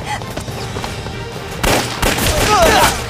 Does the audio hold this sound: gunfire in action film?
yes